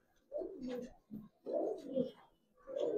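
Large domestic pigeons of fancy breeds such as silver and Lalpaoi Bagha coo close by in a home loft, several deep, throaty rolling calls in a row with short pauses between them.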